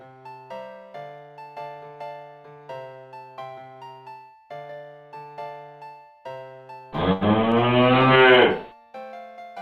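A cow in Shroud of the Avatar lets out a single loud, drawn-out moo lasting about two seconds, standing out over soft, plucked background music.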